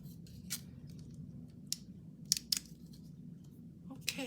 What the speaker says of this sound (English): I think I've got several decorative scissors